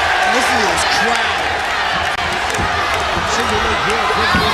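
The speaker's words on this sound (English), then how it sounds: "And listen to this crowd." Large arena crowd at an MMA fight roars and cheers loudly and continuously, a dense wall of noise with commentator speech running over it.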